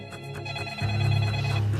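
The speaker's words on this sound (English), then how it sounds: "They get a phone call from Atlanta, Georgia." Telephone ringing, a repeated electronic ring tone pulsing at a steady rate, moderately loud, over a low droning background.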